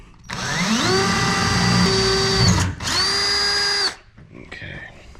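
A power drill with a countersink bit spins up and runs loudly through aluminum on a jon boat in two close, sustained bursts with a brief pause between, then winds down and goes quiet.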